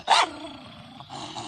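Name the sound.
chained dog barking and growling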